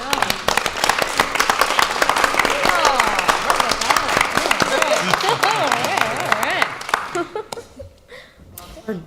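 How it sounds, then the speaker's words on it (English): A meeting audience gives a sustained round of applause for Kelly and the staff at a Silicon Valley Clean Energy board meeting, with dense clapping and some voices mixed in before it thins and fades out near the end. "give a major round of applause to Kelly and the entire staff"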